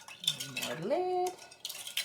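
Metal jar lids that are stuck together clink while being handled during homemade grape jelly making: a few light taps and a short ringing tone, quiet and close.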